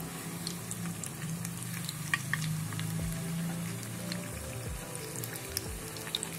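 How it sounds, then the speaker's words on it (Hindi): Maida papdi dropped gradually into hot oil fry with a steady close sizzle and bubbling, a few soft splashes and low clunks as pieces go in; no talking. "पपड़ियों को हम इस तरह से डालेंगे। धीरे धीरे करके डालेंगे तेल में"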